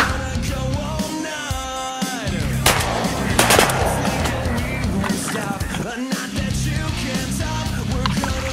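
Shotguns firing during a duck hunt over decoys, a couple of sharp, loud blasts amid excited shouting voices and outdoor rustle.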